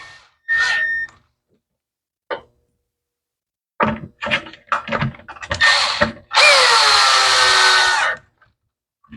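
Power drill driving screws while reassembling a Troy-Bilt mower with an old-style Briggs & Stratton 550 engine: several short close bursts of whirring, then one longer sustained run near the end.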